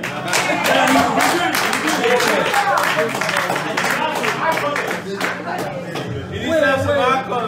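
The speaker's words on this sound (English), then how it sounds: "Hey, round of applause for me too, man." An audience at a political fundraising event in Columbus, Ohio breaks into a sustained round of applause and clapping, mixed with crowd chatter and voices throughout.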